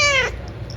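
A cat gives a single short, bright meow, close and clear, followed by quiet room tone.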